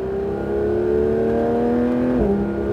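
A Porsche GT3 accelerates hard out of a corner, its engine a loud, close, steady rising drone that climbs in pitch, then drops sharply at an upshift, with no talking.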